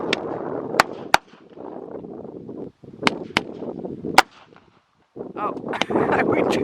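Sharp, isolated firework bangs crack out one at a time, about seven of them spread unevenly through the clip, each standing above steady crowd murmur and broadband background noise that drops out briefly near the middle.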